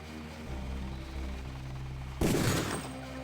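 A single gunshot in the Deus Ex video game, a sudden loud crack that cuts through a low steady hum and then fades off over a second.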